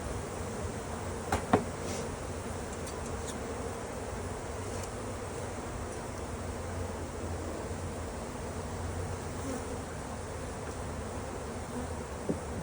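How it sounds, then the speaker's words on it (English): Swarm of honey bees buzzing around a wooden box, a dense steady drone close by that fills the whole stretch, with a few louder individual bees passing near early on. "there's a lot of bees here."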